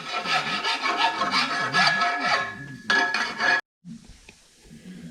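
A hand file takes burrs off the metal edges of a custom RotoPax mount for a KTM 790 Adventure R. Close, rhythmic rasping strokes stop abruptly, followed by a few faint clinks.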